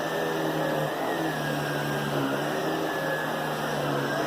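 Sebo vacuum cleaner motor running with its suction turned up, a loud, steady whining hum with a rising tone, close by and alone with no talk.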